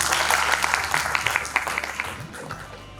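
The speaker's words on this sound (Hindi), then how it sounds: "एक बार तालियों से स्वागत हुआ।" Audience applause welcomes a poet at a kavi sammelan, part of a health parliament event in Ayodhya. Dense, steady clapping from a crowd fills the moment and tapers off near the end, with a faint voice underneath.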